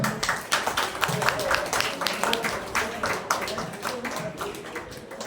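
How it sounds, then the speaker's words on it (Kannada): An audience claps at an award ceremony in Karnataka honouring public service, a dense, steady patter of many hands lasting several seconds, fairly loud and close, with voices mixed in underneath. "ದೊಡ್ಡ ಚಪ್ಪಾಳೆ"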